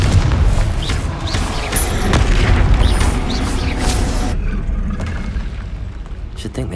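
Spell explosions from Confringo and Bombarda in the video game Hogwarts Legacy, heavy booming blasts and bursts going off in quick succession under game combat noise and voices, with the fighting fading away near the end.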